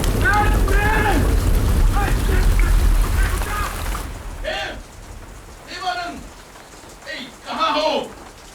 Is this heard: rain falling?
yes